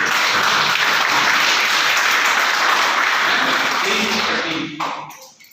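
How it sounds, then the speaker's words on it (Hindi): Applause from a seminar audience honouring a girl at a children's brain development event, a dense steady roar of clapping that holds strong for several seconds, then thins out at the end. "तो जोरदार इस बेटी के लिए तालियां हो जाए।"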